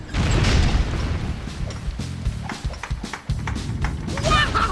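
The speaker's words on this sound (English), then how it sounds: "That explosion was awesome! It was like, kaboom!" Booming explosion in a Lego City video game, a dense cluster of heavy thuds and crashing bursts that rumble loudly throughout, with a voice present beneath the din.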